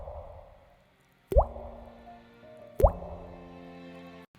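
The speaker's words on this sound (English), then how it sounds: "We're going to start off with the drip." Two distinct water drip plops, spaced about a second and a half apart, each ringing out with a long reverberant tail over a soft synth pad.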